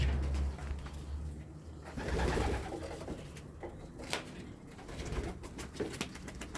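Racing pigeons coo softly at the loft after a race, low repeated cooing from several birds amid rustling and occasional sharp knocks, fairly close.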